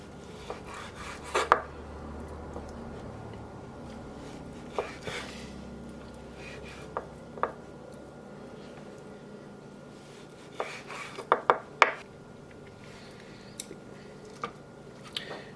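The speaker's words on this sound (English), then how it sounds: "So now we need to find the best way to slice our beautiful piece of tuna." A knife slices through a fresh piece of tuna on a board. Scattered soft cuts and sharp taps come at irregular intervals against a quiet kitchen background, close by and mostly faint.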